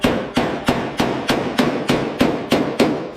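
A hammer reshapes bare steel on an old Dodge car body in a steady series of about ten loud ringing clangs, evenly spaced and close, with nothing else over them.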